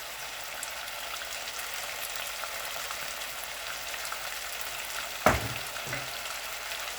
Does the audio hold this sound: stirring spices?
yes